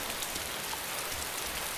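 Constant rain pouring in ArmA 2's DayZ Mod, a uniform broadband patter of drops filling the whole moment, steady and alone.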